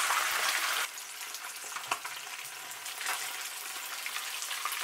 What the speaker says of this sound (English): Let it fry for another 6 minutes.